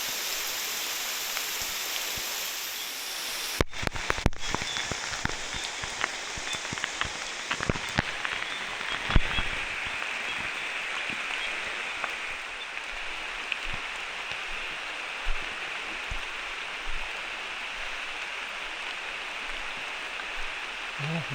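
Heavy rain pours down outdoors in a steady, dense hiss that stays loud throughout, with a few sharper spatters early on and no voices.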